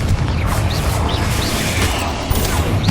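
Confringo fire spell blasting in the Hogwarts Legacy video game, a loud, dense roar of crackling explosive bursts that continues without a break.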